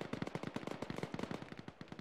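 Rapid, even bursts from a medium machine gun fire in the military video game Arma, a sustained automatic stream of sharp, punchy shots at close range with no pauses across the whole burst.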